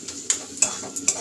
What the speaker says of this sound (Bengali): এটা দিয়ে একটু ভালো করে নেড়ে দেব।